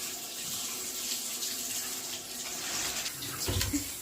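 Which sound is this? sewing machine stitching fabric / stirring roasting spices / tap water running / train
tap water running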